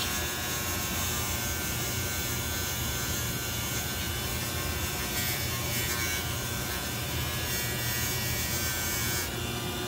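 Steady, continuous abrasive rubbing and whirring as the wheels of a Life-Like Proto 2000 SD60 model locomotive are cleaned, loud and unbroken throughout with no speech.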